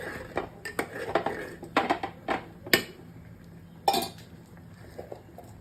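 A spoon stirs custard powder into boiled milk in a metal pot, with irregular clinks and scrapes against the sides, a few sharp knocks, then the sound trailing off.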